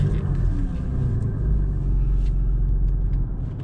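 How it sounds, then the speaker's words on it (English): A Porsche Boxster S idles while warming up before a track session, a steady low engine rumble running close and continuous throughout with no speech. "We're just gonna let the car get up to temperature"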